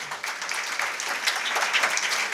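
An audience at an engineering, BCA and MCA career seminar claps to welcome a speaker to the stage. Continuous, fairly loud clapping runs throughout this short stretch, with no clear talk over it.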